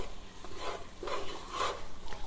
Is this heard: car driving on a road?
no